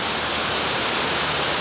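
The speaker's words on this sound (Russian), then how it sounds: "Там внутри этого торгового центра большого еще водопад" Indoor waterfall inside a large Dubai shopping mall, a dense, even roar of falling water filling the whole clip without letup, loud and continuous with no voices.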